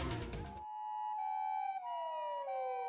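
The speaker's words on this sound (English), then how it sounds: "I could hear sirens, even in an alleyway." In a video game, after a brief burst of noise, wailing police sirens rise and fall in long sweeping tones, steady and moderately loud, with no talking.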